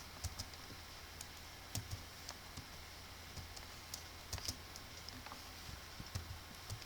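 Typing on a computer keyboard while writing HTML code, soft irregular key clicks with occasional sharper taps, faint and close in a quiet room.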